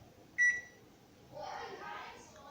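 Single short electronic beep from a microwave oven control panel as its cook timer is set, followed by soft handling noise and faint indistinct sound in a quiet kitchen.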